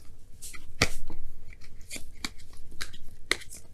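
A deck of tarot cards is shuffled by hand close up, giving soft irregular riffling and papery slaps with a few sharper snaps over a few seconds.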